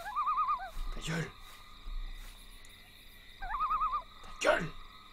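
Owl hoots in a video game, wavering tremulous calls repeated twice, heard alongside shouted speech and other game sounds.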